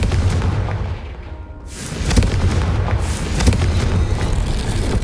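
Confringo fire-spell explosions in the Hogwarts Legacy video game, loud booming blasts over a dense low rumble, with a brief lull before a renewed burst of sharp cracks and heavy booms.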